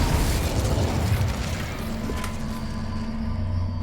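A Confringo explosive spell bursts in Hogwarts Legacy with a loud, close boom and a heavy rumbling roar that slowly thins and fades.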